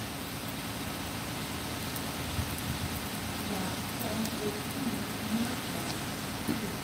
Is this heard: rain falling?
yes